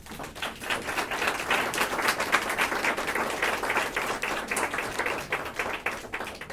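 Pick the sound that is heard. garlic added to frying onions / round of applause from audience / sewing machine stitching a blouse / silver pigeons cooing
round of applause from audience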